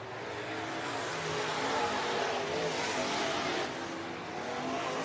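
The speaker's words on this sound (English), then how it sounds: "Another car on the move with 2 laps to go is Cole Bentz" Modified and bomber race cars roar around Worthington Speedway in a late feature race, a loud continuous wash of engines swelling and fading as the pack passes.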